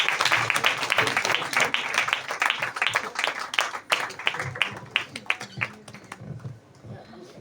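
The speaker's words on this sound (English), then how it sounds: "Please give him a big applause." An audience at a transcendental music gathering gives a big round of applause, dense clapping that thins out and fades toward the end, with a faint low murmur beneath.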